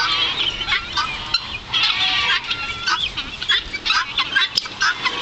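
Guinea fowl and chickens crowd a farm enclosure, filling the air with continuous overlapping clucks, squawks and chattering calls, loud and close with no pauses.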